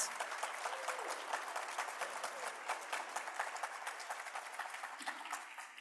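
Dense, sustained applause from an audience at a humanitarian awards ceremony, many hands clapping together in a steady wash that holds at even loudness before easing slightly at the end.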